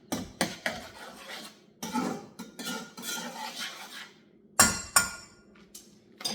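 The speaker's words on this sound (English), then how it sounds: "now that you mix that all in here, you're going to give it a stir" Spoon clinking and scraping against a pot while a rice and beans mixture is stirred, in irregular close bursts with short pauses between strokes.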